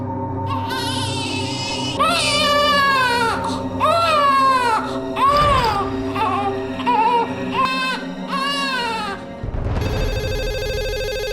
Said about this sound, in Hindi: अंदर से बच्चे की आवाज भी आ रही रोने की